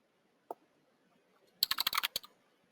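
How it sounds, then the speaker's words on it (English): A single click is followed by a quick burst of keystrokes as a new tab name is typed on a computer keyboard, crisp and close in a quiet room. "Type in the new name."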